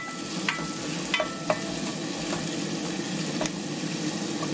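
Seasoning for Peruvian-style rice sautés in a pan with a constant soft sizzle, broken by a few light utensil clicks and scrapes.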